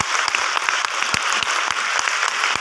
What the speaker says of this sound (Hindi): एक बार ताली बजना दी आईएमसी के लिए।